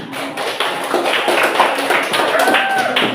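Classroom audience claps for a culinary group's presentation, a short burst of dense clapping mixed with overlapping voices and chatter.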